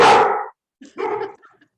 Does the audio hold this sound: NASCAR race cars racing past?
no